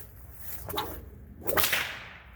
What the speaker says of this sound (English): With minimal effort, I can certainly crack it loud